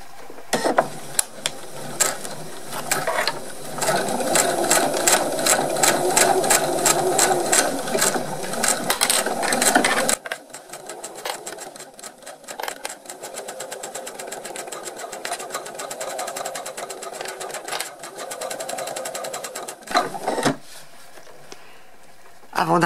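A sewing machine stitches a faux leather pouch in long runs of rapid, even mechanical clatter, loud and close, pausing briefly around the middle and near the end with no talk over it.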